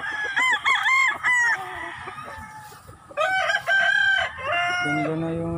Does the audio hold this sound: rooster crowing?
yes